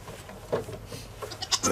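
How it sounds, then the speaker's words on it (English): Goats bleat faintly in short, wavering calls, several quick cries clustered near the end over a quiet outdoor background. "Look at the goats."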